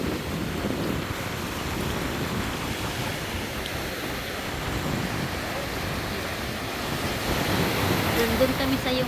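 Sea waves and surf on the coast at Noja, Cantabria, a steady broadband wash with wind buffeting the microphone, continuous and fairly loud throughout.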